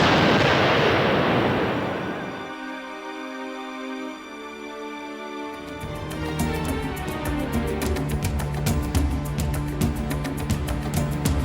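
A huge boom from coastal battery artillery guns near Mazarrón, Spain, in archival footage, roars at the opening and rumbles away over a couple of seconds, giving way to a tonal, rhythmic soundtrack.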